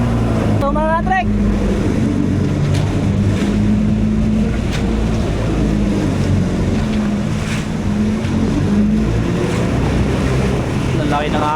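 Large open-sea waves wash and slap around a small fishing boat while its motor drones steadily and wind buffets the microphone, loud and close throughout.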